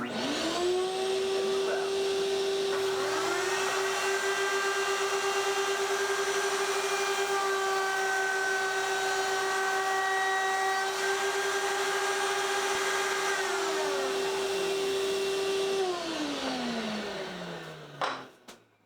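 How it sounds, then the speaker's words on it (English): A shop vacuum whirs loudly and steadily for most of the stretch, joined midway by a second motor's higher whine, likely a router, then winds down at the end. "Turn on the vacuum."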